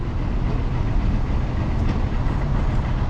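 A steady, loud rumble of a Dubai Metro train rolling past a station, continuous throughout with a dense low roar and faint rhythmic clatter.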